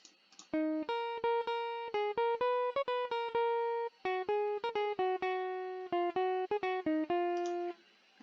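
A clean, dry plucked guitar plays a quick melodic line of short notes, bright and close, with no effects or voices.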